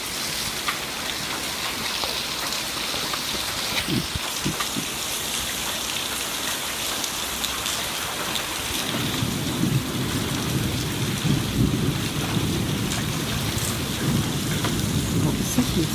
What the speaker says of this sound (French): c'était l'orage le plus violent que j'ai vécu dans la Drôme